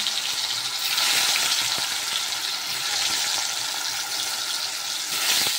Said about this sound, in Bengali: ওকে একটু চাকা করে আলু ভেজে দিচ্ছি